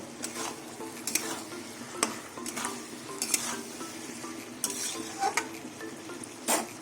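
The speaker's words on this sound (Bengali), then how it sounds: "এবার আমি চুনো মাছগুলো দিয়ে দিলাম" Small fish cook with bottle gourd in a pan, sizzling softly beneath repeated scraping and stirring strokes and light clinks of a utensil against the metal, close by and without speech.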